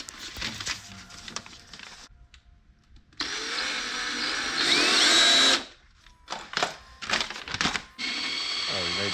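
A power drill runs through a Sea-Doo Spark hull, rising to a loud, steady whine that stops and restarts in short bursts, with people talking over parts of it.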